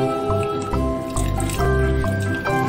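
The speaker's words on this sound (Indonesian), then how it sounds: "Lalu masukkan air secukupnya." Water poured into mango juice in a blender jar, a close liquid dripping and sloshing with soft squishy splashes running throughout, over a steady background hum with faint talk.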